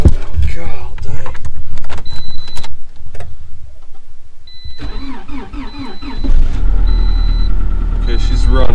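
A Toyota RAV4 on a cold night cranks and fires, then settles into a steady idle close by, with a repeating dash chime and people talking over the running engine.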